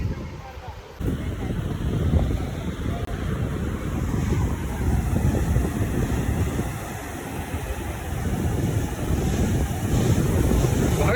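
Ocean surf at Vagator beach in Goa rolls in as a steady roar of waves mixed with gusty wind buffeting the microphone, continuous and loud throughout.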